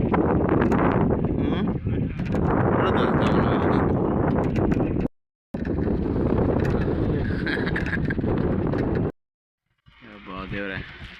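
Strong gusting wind in drizzly rain outdoors roars and buffets heavily against the microphone, dropping out twice, with a voice audible briefly at the end.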